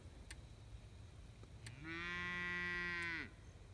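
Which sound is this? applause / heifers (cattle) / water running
heifers (cattle)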